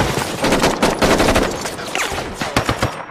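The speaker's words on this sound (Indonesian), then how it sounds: "peluru dari tembakan itu berhasil menembus beberapa mobil" A heavy-caliber automatic weapon firing in a film, rapid bursts of loud, close gunshots, with shots ripping through several cars, dense and continuous for a few seconds.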